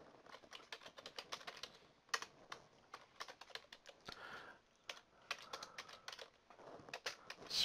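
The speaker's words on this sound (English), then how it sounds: "I can type in my name here." Rapid, irregular keystrokes on a computer keyboard, close and crisp, in bursts with short pauses, no talk.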